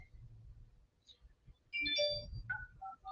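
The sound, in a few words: telephone ringing while calling a brokerage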